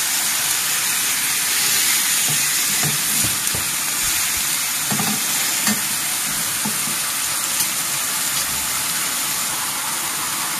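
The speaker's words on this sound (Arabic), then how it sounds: "النار كديرو متوسطة حتى العالية. غادي نبقى هكا كنقلب فيهم حتى كيطيبو لينا." Kofta frying in a pan over medium-to-high heat, a loud and continuous sizzle with scattered soft knocks and scrapes as the pieces are turned over.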